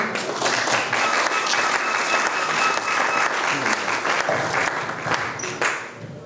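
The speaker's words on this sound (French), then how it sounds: "On peut acclamer, s'il vous plaît." A church congregation at a special Christmas Eve Sunday service applauds and cheers, dense and loud clapping held steady throughout before tapering slightly at the end.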